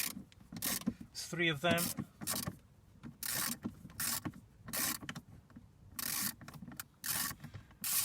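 T25 Torx screws come out of a 2008-era Ford Focus MK2 1.6 with repeated close ratcheting clicks in short rhythmic bursts, each followed by a brief pause, and a few words spoken early on.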